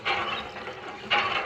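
Water gushing from a hand pump, a close, rushing splash that swells at the start, eases slightly, then surges again with a fresh stroke.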